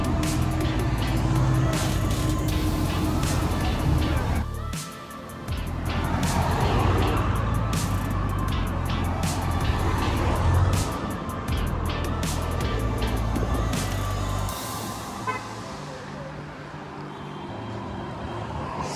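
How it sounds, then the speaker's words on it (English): Busy road traffic along Montego Bay's Hip Strip in Jamaica, with cars driving past continuously. Engines swell and fade as vehicles go by nearby, with a brief lull partway through and a tapering pass near the end. "I find a lot of traffic on the road."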